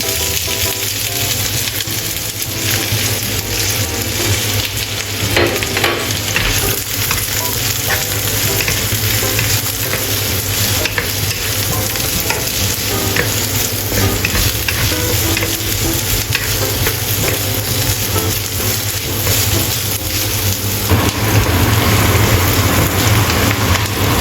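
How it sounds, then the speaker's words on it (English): Onion stir-fried in a pan until golden for an onion sauce, giving a steady, loud, close sizzle with continuous stirring scrapes throughout and no talking. "Stir fry onion until turn golden brown."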